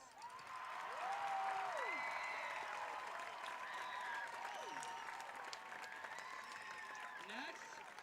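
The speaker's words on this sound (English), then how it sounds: "can we get a round of applause for our principal, Eric Albertus?" A football homecoming crowd applauds, dense continuous clapping and some cheers heard from within the stands, fairly even across the whole stretch, with a few whistles and voices mixed in.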